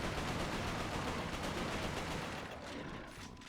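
Rapid turret gunfire in the PS3 game Resistance: Fall of Man, a dense, continuous burst of loud shots that tapers slightly toward the end, with no talk over it.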